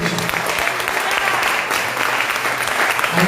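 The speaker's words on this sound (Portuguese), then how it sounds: "Aplauda o Senhor, igreja" A church congregation applauds in worship, dense steady clapping that holds for the full stretch with faint voices mixed in.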